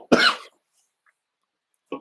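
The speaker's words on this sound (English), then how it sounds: "I still have that cough." A single sharp, close cough bursts out, followed by silence and a brief throat-clearing sound at the end, with no words spoken.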